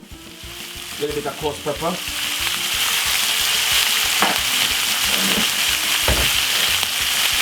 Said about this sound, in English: we're just gonna fry up this about 3 to 4 minutes